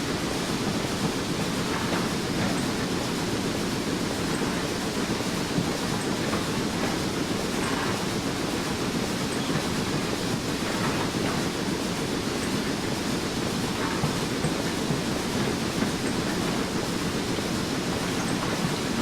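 A simulated Class 2F Dock Tank steam locomotive labors up a grade on the Falmouth Branch, a dense constant rumbling roar with faint rhythmic chuffing pulses, steady and unbroken throughout.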